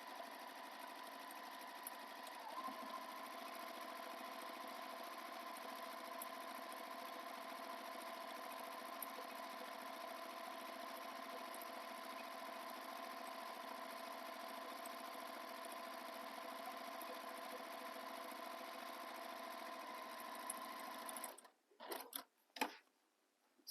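A sewing machine runs a steady, continuous back stitch over earlier stitching on a faux leather vinyl bag, with an even mechanical hum for about twenty seconds, then stops with a few clicks.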